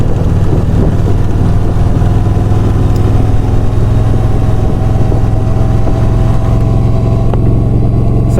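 A 2017 Kawasaki Voyager 1700 cruiser motorcycle engine drones loud and steady while riding at speed, with a low engine hum under constant wind rush and no talking.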